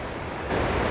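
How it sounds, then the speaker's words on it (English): River rapids rush on the James River in Richmond, Virginia, upstream where the rapids first begin. The water gives a loud, steady broadband roar for about a second, with no speech. "This is upstream where the rapids are first starting."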